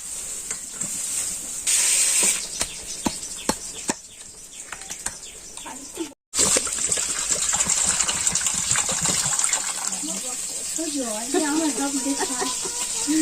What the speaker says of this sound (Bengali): একটা ডাবে কতগুলো জল বেরিয়েছে দেখুন